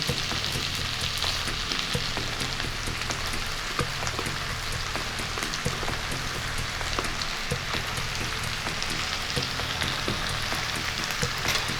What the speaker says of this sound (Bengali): গাজরটা দিয়ে হালকা নাড়াচাড়া করে আমি ধুয়ে রাখা গোবিন্দভোগ চালটা দিয়ে দিচ্ছি